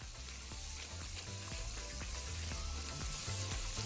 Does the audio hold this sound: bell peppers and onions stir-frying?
yes